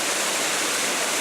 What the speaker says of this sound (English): Now, that's a pretty fall.